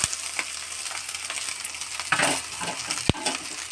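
Green chillies fry in oil in a pan with a dense, bright sizzle throughout, broken by a few stirring scrapes and one sharp metallic tap near the end.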